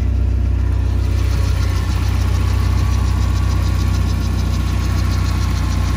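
A Spider car idles after a cold start, its exhaust open with no muffler fitted. The engine holds a loud, steady, close-up drone with a low pulsing throb throughout and no voices.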